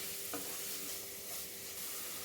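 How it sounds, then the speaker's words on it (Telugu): Chopped carrot pieces stirred in a hot pan, giving a faint, steady frying hiss with soft scraping from the spoon. "ఇలా కలిసే వరకు తిప్పుకోవాలి."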